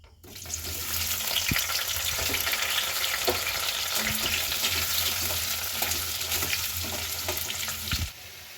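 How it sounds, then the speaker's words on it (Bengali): Potatoes fry in hot oil with a loud, close, continuous crackling sizzle, stirred now and then with a few knocks, before cutting off near the end. "এখন আলুগুলো ভেজে নেব।"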